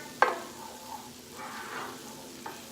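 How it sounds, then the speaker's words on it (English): Chopped poblano peppers sizzle in a pan as they are stirred, a soft frying hiss with a sharp scrape near the start and faint stirring scuffs that follow. "We're gonna give this a little bit of a stir."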